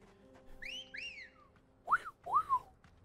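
A bird creature in Final Fantasy XVI gives a few clear whistles, first two faint sliding upward calls and then two louder, closer rising whistles, with no talk.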